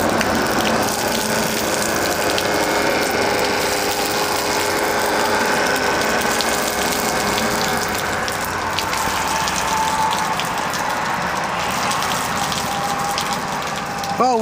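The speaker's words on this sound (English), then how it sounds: "Let you listen to the pump, it's hardly making any noise." A 12-volt water pump wired to a truck's cigarette outlet draws from a 55-gallon tank, giving a steady close mechanical whir with a rapid ratcheting rattle and faint water gush, running continuously.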